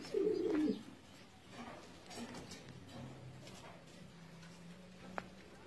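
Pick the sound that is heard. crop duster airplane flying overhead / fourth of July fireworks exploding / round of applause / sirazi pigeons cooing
sirazi pigeons cooing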